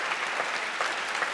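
An audience claps for the award winners at the Hamamatsu International Piano Competition ceremony, a brief burst of dense, steady applause from many hands.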